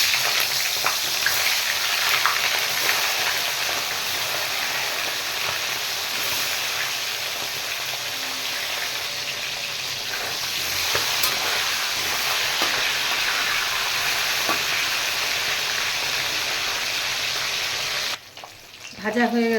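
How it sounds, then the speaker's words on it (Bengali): Hilsa fish heads frying in hot oil for a kochu shak dish, a loud, steady sizzle and bubbling crackle that carries on without a break until it cuts off near the end. "এবার আমি ইলিশ মাছের মাথাগুলো ভেজে নেব।"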